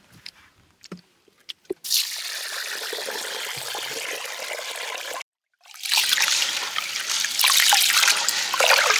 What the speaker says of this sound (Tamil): இப்போ வந்து தண்ணியை வந்து ஊற்றிக்கலாம்.